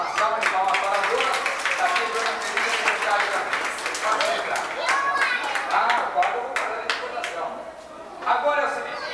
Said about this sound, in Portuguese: Uma salva de palmas para a Bruna